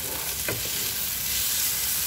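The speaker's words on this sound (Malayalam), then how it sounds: "നന്നായിട്ട് വഴറ്റുക." Egg masala sautéing and being stirred in a pan, a steady close sizzle with a brief scrape of the spoon, no voices.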